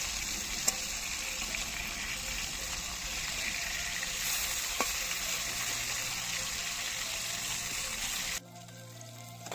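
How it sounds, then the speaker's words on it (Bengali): Fish pieces coated in salt and turmeric fry steadily in hot oil, a continuous loud sizzle with some watery crackle that drops suddenly near the end. "এবার মাছটাই নুন হলুদ মাখিয়ে ভালো করে ভেজে নিচ্ছি।"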